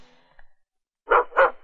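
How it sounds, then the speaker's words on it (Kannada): A dog gives two loud, close barks in quick succession after a moment of near silence, preceded by a faint brief yelp. "ಹಿಂದಿಲ್ ಬೊಗಳ್ತಾ ಇದೆ."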